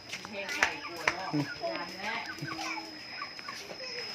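Farm chickens clucking in short, irregular bursts close by, with a rooster-like call mixed in, while people talk over them throughout.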